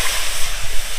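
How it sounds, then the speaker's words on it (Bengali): Water poured into a hot wok of fried spices while making a sweet-sour Indian jujube (kul) pickle bursts into a loud, close, continuous steam hiss and sizzle with no voices. "এবার কুলগুলো একটু গরম জল দেওয়ার জন্য জল দিয়ে দিচ্ছি কড়াইতে"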